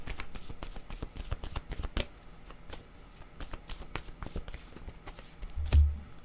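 Tarot cards shuffled and drawn, a steady run of crisp papery riffles and snaps, close and fairly loud, easing into softer handling near the end with no talking.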